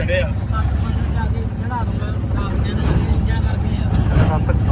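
A steady low tractor engine rumble drones throughout, loud and close, with someone talking over it.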